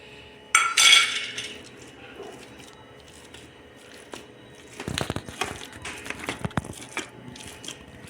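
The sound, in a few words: mashing boiled potatoes with a utensil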